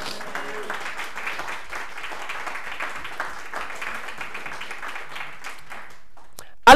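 A church congregation breaks into sustained applause acclaiming the Lord, a steady wash of clapping that continues for several seconds before stopping abruptly.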